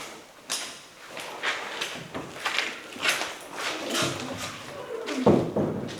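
A moldy door in an abandoned Regal movie theater is pushed open, giving a series of scraping, creaking bursts that rise and fall over several seconds at close range, with no talking.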